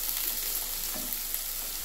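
Green chillies sizzle steadily in a hot pan for a kakarakaya (bitter gourd) fry, a continuous close frying hiss with faint stirring, no voices.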